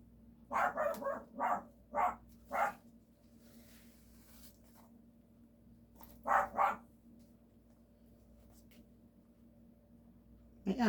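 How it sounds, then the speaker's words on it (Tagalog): A dog barks in a quick run of about five sharp barks, then pauses and gives two more, clear and fairly close against a quiet background. "Kaya tumatahol po yung aso"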